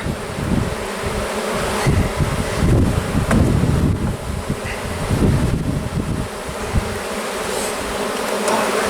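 Honeybees from a package being installed into a hive, a dense, steady buzzing swarm close to the microphone, accompanied by wind noise and faint handling sounds.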